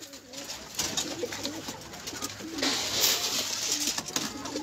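Pigeons coo softly and repeatedly nearby, low throaty calls over a faint background hiss.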